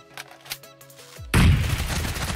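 Gunfire in the mobile shooter BGMI: a sudden, loud burst of shots cuts in after a quiet stretch of soft in-game tones and keeps roaring as sustained, close automatic fire.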